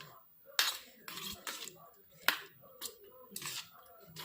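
Spoon or utensil clinking and scraping against a dish while mixing an egg dish, with several sharp ticks and short scraping bursts at an irregular pace, close by, with faint background noise.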